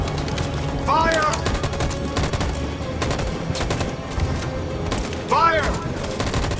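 Soldiers' gunfire in the PS4 game Detroit: Become Human during the Battle for Detroit: dense, rapid volleys crackling steadily throughout, with shouted voices cutting in twice over the shooting.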